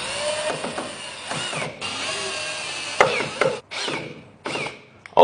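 Repeated bursts of a power drill driving screws while fitting a door closer, whirring runs broken by short pauses, clicks and a final sharp ratcheting buzz, close and fairly loud.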